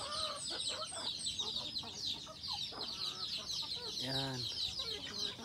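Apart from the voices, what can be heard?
native chickens clucking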